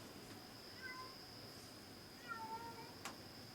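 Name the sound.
cat crying outdoors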